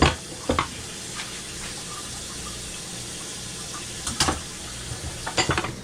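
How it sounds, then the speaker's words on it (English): Banana pudding mixture is poured back into a pot and stirred, with a steady wet hiss and scattered sharp clinks and scrapes of a utensil against the pot, close and without talk. "we're going to pour this stuff back into my pot"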